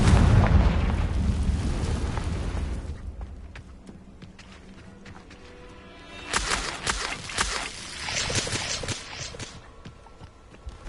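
A Confringo spell explosion in Hogwarts Legacy hits with a loud booming blast that fades over a few seconds, followed later by a second burst of crackling, rumbling impact sounds.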